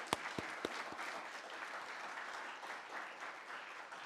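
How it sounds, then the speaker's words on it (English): Applause for presenters at a timber design symposium, a soft, steady patter of many hands from a distant audience, opened by a few sharper, closer claps. "I want to thank this afternoon's presenters and ask for a round of applause for everyone."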